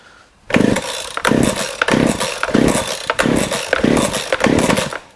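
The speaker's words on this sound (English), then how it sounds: "we're going to give it a good couple of pulls" A Baumr-Ag GCS6200 two-stroke chainsaw engine is pull-started repeatedly, giving about seven rhythmic loud sputtering bursts with brief gaps between them, close by and harsh.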